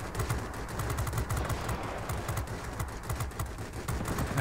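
Aircraft guns on an F5F fighter in World of Warplanes fire in a dense, continuous rapid rattle of shots, loud and steady for several seconds with no pauses.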